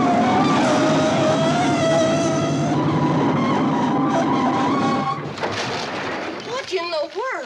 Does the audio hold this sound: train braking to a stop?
yes